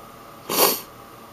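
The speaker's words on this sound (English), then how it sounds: "Do apologize for the sniffling" A single short, quick sniffle from someone with allergies, close and breathy, rising and fading within half a second over quiet background.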